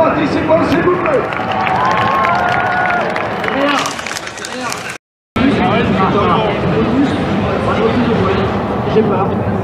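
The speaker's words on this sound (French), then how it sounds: "j'aimerais bien qu'on fasse un donner un applaudissement à nos participants" An audience at Paris Games Week 2015, a crowded gaming convention, applauds the participants with dense, loud clapping and cheering over crowd chatter, broken by a brief dropout to silence midway before resuming.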